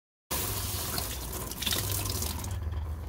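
Fuel pouring from a disconnected fuel line at the tank of a SAAB 9-3 during a fuel pump replacement, a steady close splashing gush that starts abruptly and runs continuously without talk.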